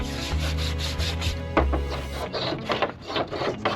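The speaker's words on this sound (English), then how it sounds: "Gonna go ahead and give this a scrub." Scrubbing strokes rub across a van's metal body panel during a van build, a steady close rasping wash with a low hum underneath and a brief knock midway, loud and continuous with no talk.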